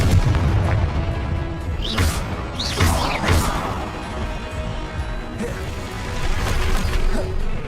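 Repeated Confringo spell blasts in Hogwarts Legacy boom and crash amid combat, several loud impacts with whooshing tails spread across a noisy, continuous fight.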